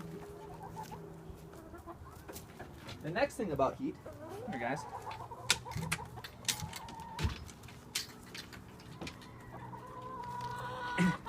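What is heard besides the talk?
chickens clucking in the chicken coop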